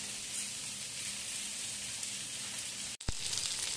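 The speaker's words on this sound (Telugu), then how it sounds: "చక్కగా ఉడుకుతున్న ముక్క కూడా చక్కగా దోరగా వేగుతున్నాయి" Fish pieces fry in hot oil in a pan, giving a steady, close hiss and sizzle throughout, broken near the end by a brief sharp knock.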